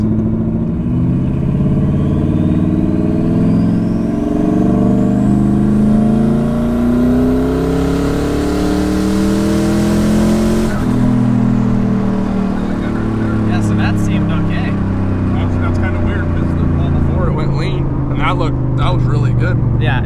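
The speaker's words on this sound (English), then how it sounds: "enjoy these turbo noises." Turbocharged Ford Crown Victoria engine revs loudly and repeatedly, rising and falling in pitch, with turbo whoosh and spool noise over a dense mechanical roar. Voices are heard underneath.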